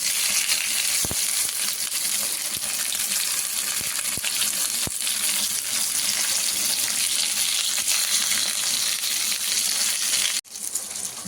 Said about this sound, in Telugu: ఇలా మంచిగా గోల్డెన్ బ్రౌన్ వచ్చే వరకు ఫ్రై చేసుకోవాలండి